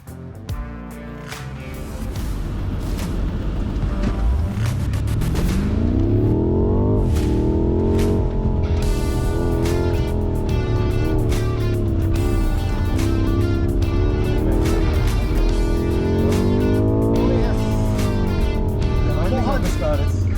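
A 600-horsepower BMW M5 accelerates hard around a race track, its engine roaring loud and close inside the cabin with rising and falling revs through gear changes across the lap.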